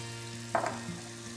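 Onion and red pepper frying in a pan, a quiet low sizzle with one brief clink or stir in the middle, close and faint.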